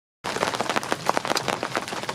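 Heavy rain pelting a sailboat's deck and fittings in a storm, a dense, steady patter of many drops with sharper individual taps, close and continuous, starting abruptly.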